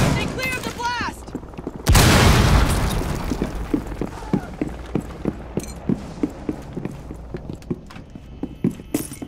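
A loud explosion in Rainbow Six Siege erupts as a sudden heavy blast, then decays while footsteps and scattered impacts tick on, with a voice briefly heard before it.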